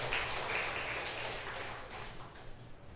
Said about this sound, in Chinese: 咱鼓掌